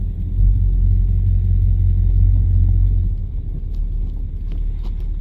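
A 1968 Dodge Charger accelerates with a deep, heavy engine rumble, loud and close for the first few seconds, then easing off into a quieter drone.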